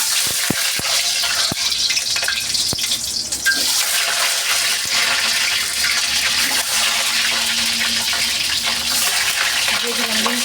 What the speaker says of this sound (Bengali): এখন ডিমগুলোকে ভেজে নিব।